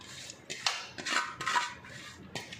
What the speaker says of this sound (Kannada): ಕುಕ್ಕರ್ ಲಿಡ್ನ ಕ್ಲೋಸ್ ಮಾಡಿ